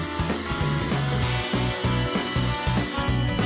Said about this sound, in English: Drill through the gel coat and the fiberglass before drilling in forward.